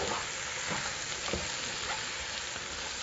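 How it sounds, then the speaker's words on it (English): Mushrooms and onions sizzle steadily in about half a stick of butter for a blue crab chowder, with a dense, even frying hiss and a few soft scrapes of stirring, close and continuous with no voices. "I'm going to stir this all up, really let these mushrooms and onions cook way down."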